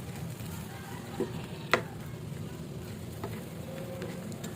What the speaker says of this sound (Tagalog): lutuin muna natin siya sa butter at sa sa garlic